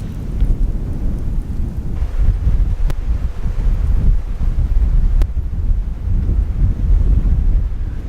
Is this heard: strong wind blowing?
yes